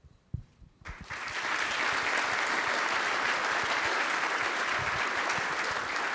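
After a brief quiet moment with a few knocks, a conference audience bursts into loud, sustained applause that holds steady until the end.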